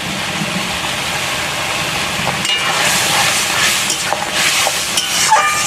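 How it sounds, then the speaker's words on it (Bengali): Spice paste with salt and turmeric fries for a duck curry, a loud continuous hiss that grows busier midway, with scattered scraping clicks as it is stirred. "মশলাটা নেড়ে চেড়ে ভালো করে কষিয়ে নেব"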